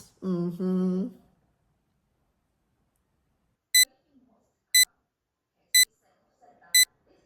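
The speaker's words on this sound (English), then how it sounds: "I just got the notification." Phone notification tone: four short, bright beeps spaced about a second apart, clear and close, following a brief burst of voice at the start.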